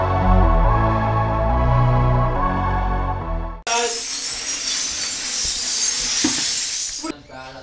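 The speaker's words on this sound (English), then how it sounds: "we walked on broken glass" Broken glass crunches and shatters underfoot in a TV magic show, heard as a long, loud, gritty crackle after a stretch of music, with people talking around it.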